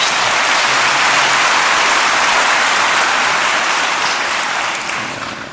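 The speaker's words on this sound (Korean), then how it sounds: "우리 하나님께 감사의 박수 올려드립니다." Church congregation clapping in thanks during a service: dense, loud sustained applause that fades slightly toward the end.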